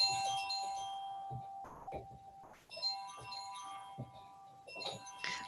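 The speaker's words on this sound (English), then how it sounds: "that is my husband's phone" A phone ringing with a repeating bell-like electronic tone, several chimes in a row with short pauses between, moderately loud in a quiet room.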